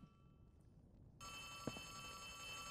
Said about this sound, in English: Bro, I know you're ringing me, but I don't know how to, answer the phone.